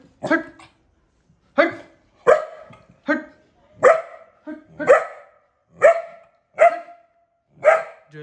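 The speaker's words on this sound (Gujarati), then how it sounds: "ખાલી હટ હટ કહું છે કેટલું ભસે છે" A dog barks repeatedly on command, nine or so loud, close, evenly spaced barks with brief gaps between them and no talking over them.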